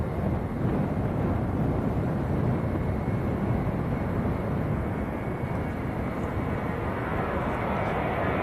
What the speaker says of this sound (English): This is Ryanair to Oslo.